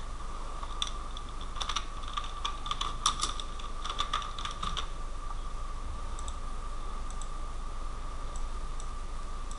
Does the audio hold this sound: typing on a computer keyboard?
yes